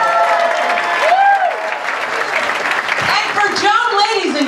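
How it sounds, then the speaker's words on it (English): A comedy club crowd at the Laugh Factory applauds a performer during a Joan Rivers tribute night, loud continuous clapping and cheering with voices and whoops rising over it throughout. "Big round of applause for Sunda Kronquist."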